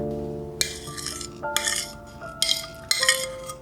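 Half a banana is mashed with a fork and scraped into a saucepan for sweet oatmeal porridge, giving a few close metallic clinks and scrapes of cutlery against dish over a steady tonal hum, with no talking.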